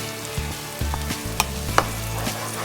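Chopped onion sizzling and frying in a pan, then blended fresh tomato purée tipped in, with steady close sizzle, a few stirring clanks and sharp utensil taps, no talking.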